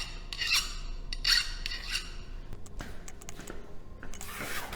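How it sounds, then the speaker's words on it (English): Hand file rasping across metal in a metal shop, several distinct push strokes with pauses between, close and fairly loud with no talking. "You can cut metal using a file."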